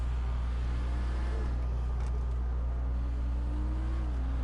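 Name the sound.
Dubachi Spectre car engine revving in video game GTA 5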